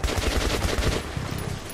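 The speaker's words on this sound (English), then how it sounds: "what about a mid-range rifle that's dead silent? Metro 2033 is a mix between stealth and action" Rapid automatic gunfire from a silenced mid-range rifle in the stealth-action video game Metro 2033, a dense stream of suppressed shots continuing steadily throughout, close and moderately loud.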